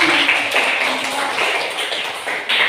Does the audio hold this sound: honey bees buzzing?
no